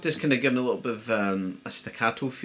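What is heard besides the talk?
No everyday noise stands out behind the speech.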